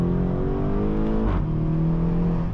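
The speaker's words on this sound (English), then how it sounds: "so the exhaust is deeper overall" A BMW M2 exhaust with its valves disconnected rumbles steadily and loudly up close, the engine holding a deep, growling tone with a slight swell in revs midway and no talk over it.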